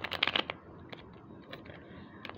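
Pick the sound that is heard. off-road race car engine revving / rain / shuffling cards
shuffling cards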